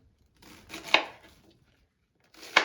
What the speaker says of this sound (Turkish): Şu şekilde de lahanayı da şöyle doğruyorum.